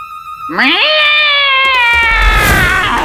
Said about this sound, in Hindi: ये वही मोटी बिल्ली होगी।